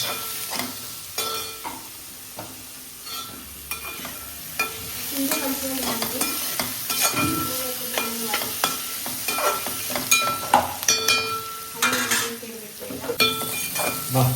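Soya chunks, meal maker, frying in a pan and being stirred, a steady sizzle broken by frequent metallic clinks and scrapes of the spoon against the pan, close and fairly loud.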